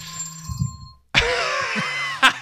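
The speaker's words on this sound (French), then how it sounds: "C'est la sonnerie parce que je parle trop longtemps." An electronic timer ringtone bursts on loudly after a brief quiet, a bright sustained ringing tone ending in a sharp accent.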